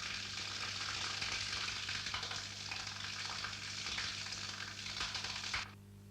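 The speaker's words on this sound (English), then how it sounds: "Cutting and blending after each ingredient is added helps give uniform and thorough mixing." An industrial machine cuts and blends rubber compound as ingredients are added, giving a loud, steady broadband hiss over a low mechanical hum that stops abruptly near the end.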